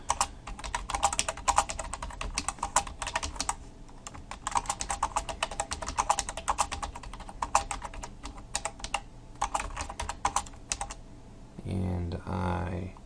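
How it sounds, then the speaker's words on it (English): Rapid, continuous typing on a computer keyboard as a blog comment is entered, dense clicking keystrokes up close for about eleven seconds with brief pauses, followed by a short burst of speech at the end. "So I'm just going to type in anything."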